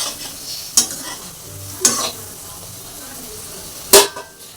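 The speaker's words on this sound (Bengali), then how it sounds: "তো তারপরে দেখো ভেজে থাকা ঢ্যাঁড়সটা এর মধ্যে আমি দিয়ে দেবো এখন" Fried okra tossed into a pan with raw mustard sauce gives a low steady sizzle, broken by three sharp scraping stirs of a spoon against the pan in a home kitchen.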